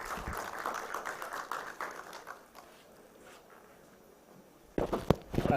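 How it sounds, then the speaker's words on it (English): Workshop audience clapping for a speaker, a scattered round of applause that thins and fades away, then a brief burst of taps and handling noise near the end. "Please give the speaker a round of applause"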